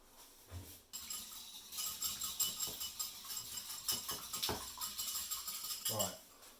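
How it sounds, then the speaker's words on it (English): An egg is whisked with a utensil in a bowl, giving quick, repeated metallic clinks and scrapes against the dish at close range. "whisk that up."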